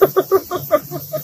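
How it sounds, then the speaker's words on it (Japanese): Cicadas call outdoors in late summer just after a typhoon, a close, fairly loud string of evenly spaced pulsing chirps repeating about every fifth of a second. "なんでセミ鳴いてんの。"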